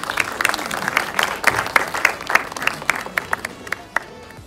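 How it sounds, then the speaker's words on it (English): An audience at the opening ceremony of a Korean film festival claps for the ambassador, the individual hand claps distinct and close, thinning out into scattered claps as the applause winds down. "A round of applause for him, please."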